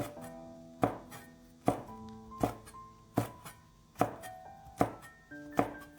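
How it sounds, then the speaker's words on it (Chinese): A knife cuts bird's eye chili peppers diagonally into slices on a board, about eight sharp, evenly spaced chops close by, each trailing a brief ring, with no talk. "几个小米辣斜刀切成片。"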